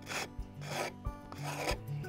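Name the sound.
wood rasp filing a wooden hoop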